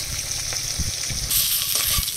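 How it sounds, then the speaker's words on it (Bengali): Fish frying in hot oil in a home kitchen gives a steady, close hiss and sizzle, growing brighter and louder partway through, with soft clinks and no talking. "এদিকে মাছ ভাজা বসিয়ে দিয়েছি।"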